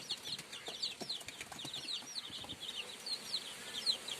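High, thin peeping from several small chicks, chirping in quick overlapping bursts, close by but soft, over faint background noise.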